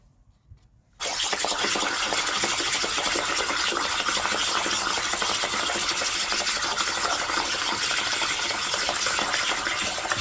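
Water rushing from a burst 20A pipe feeding a rooftop water tank, heard as a steady, loud, broadband hiss that starts abruptly and holds without a break, with no talk over it.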